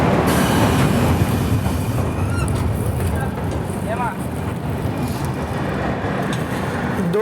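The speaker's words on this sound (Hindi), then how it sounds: "12:27 पर हमारी ट्रेन निकली है सेलू से" The Sachkhand Express pulls out of Selu station with a loud, steady rumble of wheels on rail, some faint squeals over it and a rhythmic clatter underneath.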